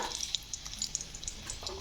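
Dried red chili and a bay leaf crackle and pop softly in a little hot oil, a faint, steady sizzle with small scattered spits close by.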